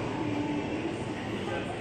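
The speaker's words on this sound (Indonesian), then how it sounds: "Jalur 3-nya KRL Komuter Line tujuan Bogor sudah diizinkan berangkat" A KRL Commuter Line electric train pulls out of Depok Baru station bound for Bogor, a steady broadband rumble and hiss of the eight-car set close by, continuous and even throughout, with a faint tonal whine riding on top.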